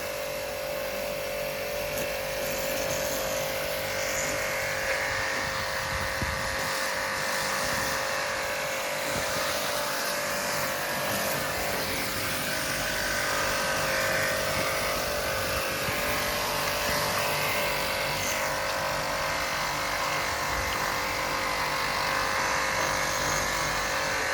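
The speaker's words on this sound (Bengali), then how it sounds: "হাই প্রেশার মেশিন দিয়ে মারলে তাড়াতাড়ি হবে" A high pressure washer machine cleaning solar panels runs as a steady, loud motor drone with a constant tonal hum and hissing spray, continuing unbroken throughout.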